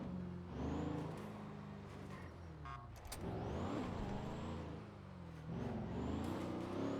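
A car drives along a road nearby, its engine note rising and falling through several swells of acceleration and passing noise, loud and without voices.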